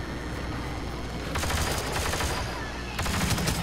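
Dense, continuous blaster fire from the Star Wars Battlefront II video game, loud and rapid with overlapping bursts and steady battle noise, growing heavier partway through.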